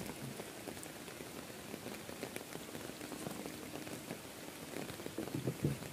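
Rain pours steadily onto a pond, a dense, even patter of drops across the water that swells slightly toward the end, with no voices present.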